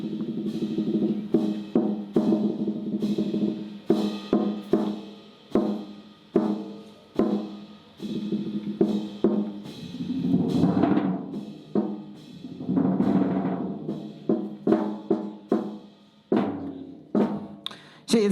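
A drum set taps out a rhythm in a jazz setting, with repeated sharp hits and a couple of swelling cymbal washes, moderately quiet and steady, no voices.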